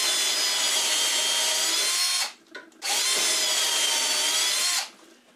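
A power drill bores dowel holes through a Jessem doweling jig set to 3/8 inch, two steady loud whining runs split by a brief pause, no talking.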